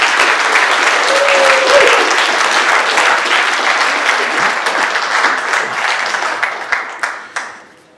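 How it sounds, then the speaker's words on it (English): Sustained applause from a large crowd at the Labour Party conference, honouring Nafisa and Young Labour, dense and steady before thinning and fading out near the end. "please give Nafisa and the young Labour another round of applause"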